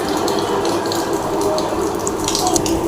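Water runs steadily into a cooking pot in a home kitchen as tea is started, a continuous close splashing and gushing rush with no pause and no voices.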